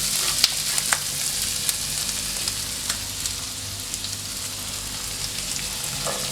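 Yardlong beans, tomato, capsicum and carrot fry in a pan with Maggi masala for a pasta dish, giving a steady, close sizzle with faint crackles and stirring throughout.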